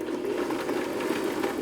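A sewing machine runs steadily while stitching a seam with piping on upholstered arm covers for a rocker swivel recliner, a close, even motor hum with a rapid needle chatter throughout.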